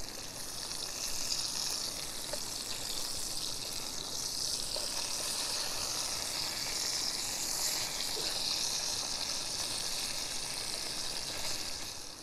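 Bacon sizzling in a frying pan outdoors beside a small creek seep, a steady close crackle and hiss that stays level throughout, with flowing water blended underneath and no voices.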